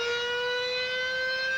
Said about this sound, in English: sirens are used to alert the volunteer firemen a call has come in so they can respond.